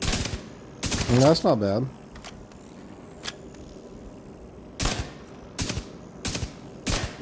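Kingbreaker rifle shots in The Division 2, fired as individual rounds: several sharp, loud, separate reports spaced a second or so apart, with a brief burst early on and someone speaking between shots.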